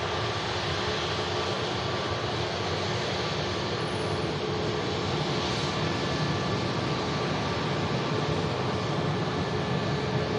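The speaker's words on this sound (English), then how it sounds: "just missing an EasyJet touchdown, but we're taking as much of this EasyJet as we can" EasyJet airliner rolling out after touchdown at Manchester Airport, a constant broadband jet roar from moderate distance, steady and unbroken with no talking.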